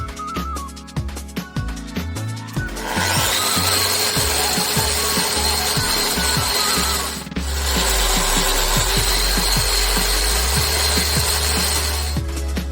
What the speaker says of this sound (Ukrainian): Тому ну, зараз їх підточимо.